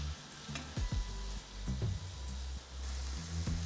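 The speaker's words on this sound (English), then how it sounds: "And they get the sizzling up." Burger patties sizzle steadily in a hot pan, a constant frying hiss with occasional clinks and scrapes of a utensil.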